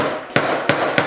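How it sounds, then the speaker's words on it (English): Three sharp metallic taps ring out in quick succession as a metal punch is hammered to stamp numbers into a ring supported on a wooden dowel. "I placed the ring on a dowel for this step and tried to hold it steady while I punched the numbers."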